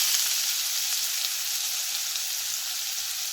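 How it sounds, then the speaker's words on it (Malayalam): Chopped onion sautés in oil in a pan for Kerala cheera thoran, a close, steady crackling sizzle with fine spattering that holds without pause. "അതിലേക്ക് ഒരു ഉള്ളി കട്ട് ചെയ്തിട്ട് കൊടുക്കാം"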